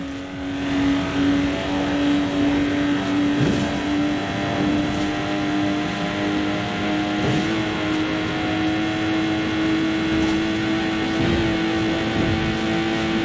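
A Lotus Exige in Forza Horizon 4 revs with a steady, droning engine note and small surges in pitch, loud and close with no talk.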